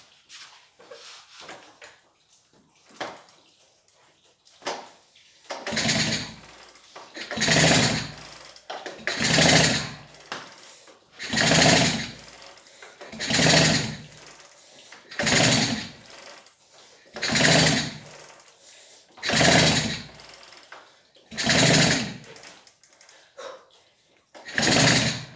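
Repeated attempts to start the engine of an old Peugeot 102 moped that won't fire: about ten rhythmic bursts of pedal-cranking noise, each rising and dying away after a second or so, loud and close with brief pauses between.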